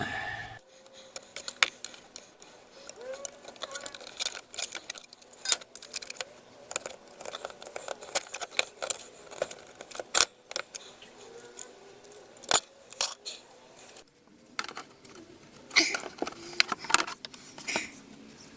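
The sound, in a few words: cutting off a corner during air compressor repair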